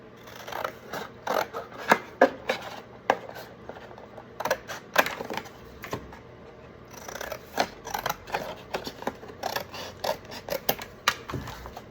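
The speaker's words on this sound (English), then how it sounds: "I'm going to cut this out real fast" Scissors snip through paper for a Christmas craft, a run of crisp, close cuts in quick irregular bursts separated by short pauses.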